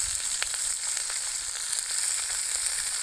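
Country chicken sautéing in a pan over a wood-fired stove makes a loud, steady sizzle with a few faint scrapes of stirring, close and unbroken, with no voices.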